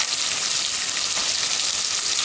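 Sliced onions frying with salt in a pan, a loud, continuous, close sizzle that holds steady throughout with no talk.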